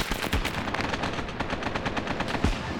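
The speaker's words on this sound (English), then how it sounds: "Hey, we're being shot at." Rapid automatic gunfire from the military game Arma Reforger, a dense, loud stream of shots fired in quick succession, continuing without pause and with no talking.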